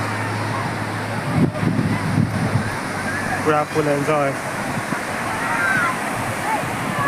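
Broad rushing wash of sea waves on the shore at Murudeshwar, Karnataka, beside the temple, steady throughout, with people talking over it.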